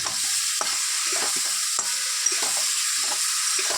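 A cauliflower, potato and duck egg curry sautéing in a pan, with a steady hiss of frying and a series of short scraping stirs, roughly a dozen uneven strokes, close up and without speech.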